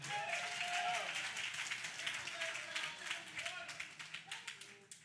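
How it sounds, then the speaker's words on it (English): An audience at a community outreach session claps hands together in a steady round that thins into scattered, separate claps toward the end. Voices murmur faintly underneath. "Clap your hands about it."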